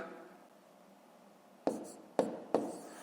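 Pen writing numbers by hand during a fifth-grade math multiplication exercise: three short, distinct scratching strokes in the second half, each a sharp onset fading quickly, after a quiet lead-in with faint background hiss.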